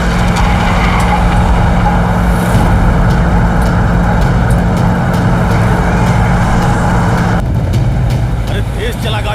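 A car driven fast gives a loud, continuous engine roar with broad road noise, close and unbroken, with voices mixed in before the sound thins near the end.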